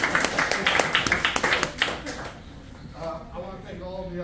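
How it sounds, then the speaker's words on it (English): Applause for a retiree's kids at a retirement celebration in a museum: a small group claps briskly and distinctly for about two seconds, then it fades out and a voice begins speaking. "Let's give his kids a round of applause."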